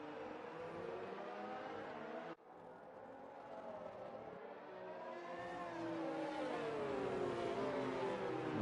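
F1 cars on a formation lap at Abu Dhabi in F1 2019 hum at a steady moderate pitch, with a sudden brief dip and then a slow rise in engine tone and loudness toward the end.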